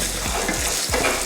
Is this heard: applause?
no